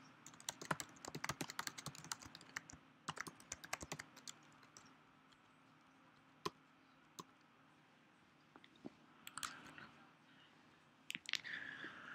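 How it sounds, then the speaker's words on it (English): Rapid clattering keystrokes on a computer keyboard while scripting a jQuery lightbox, coming in close bursts with short pauses and a few sharper isolated clicks, no voices. "just follow along with my typing."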